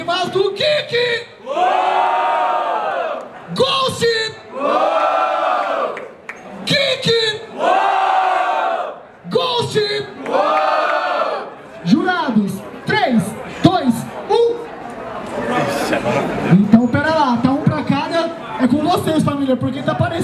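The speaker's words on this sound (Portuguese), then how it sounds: "Com vocês, barulho para as rimas do Kiki" A crowd at a street rap battle in Barueri, São Paulo cheers, whoops and shouts in repeated loud bursts, with a host's amplified voice calling out over the noise.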